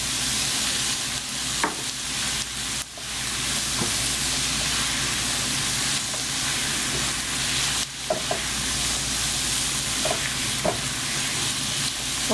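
Garlic and green chili frying in oil over a high flame while being stirred, a steady loud sizzle throughout with occasional scrapes and clinks of a spoon against the pan, and no voices.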